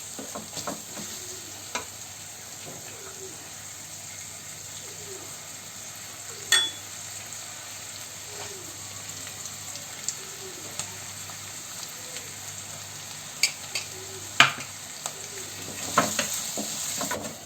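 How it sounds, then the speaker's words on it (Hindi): Ginger paste cooking in a masala for Jodhpur-style haldi (turmeric) sabzi, sizzling steadily with soft rhythmic stirring scrapes and occasional clinks of a spoon against the pan. "जो हमने अदरक का पेस्ट बनाया था उसको भी इसमें डालकर पकाना है।"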